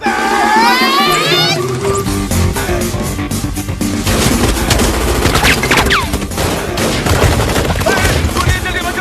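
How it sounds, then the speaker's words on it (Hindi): Rapid bursts of gunfire crackle through a Hindi comedy scene, loud and dense, mixed with shouting voices, a crowd and music, with a descending whistle-like tone at the start. "गोलियां चल रही, बचाओ!"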